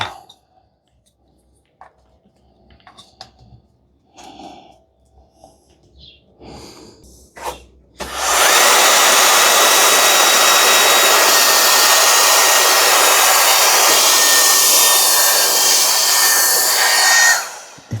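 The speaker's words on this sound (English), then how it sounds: "Let's try the vacuum cleaning" A few quiet clicks and handling noises give way to a loud, steady whooshing from a 13000 RPM turbo fan air blower with a vacuum adapter, running continuously for about ten seconds, then cutting off.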